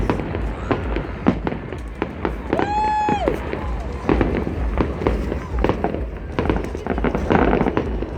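Rapid-fire Fourth of July fireworks over Tempe Town Lake, Arizona, crack and pop in dense, loud bursts, with a whistling rocket rising midway and a crowd murmuring underneath.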